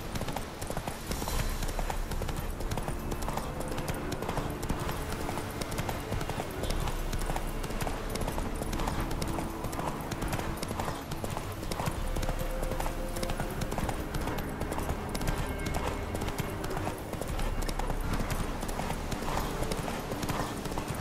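Roach, Geralt's horse in The Witcher 3 video game, trots with a steady, continuous clip-clop of hooves for about twenty seconds, close and loud over the game's background sound.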